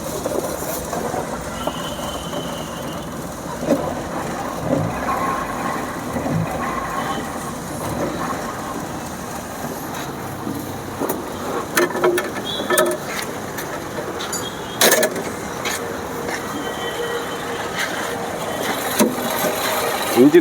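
A restored 1950 vintage car engine runs steadily up close, a continuous even rumble with occasional clicks and rattles over about twenty seconds.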